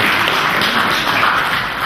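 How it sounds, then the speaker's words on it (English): Loud, close clapping from an audience at a book launch, honouring a speaker after his remarks, dense and continuous without talk. "A round of applause for Dr."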